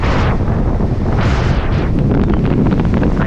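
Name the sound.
strong wind at the sea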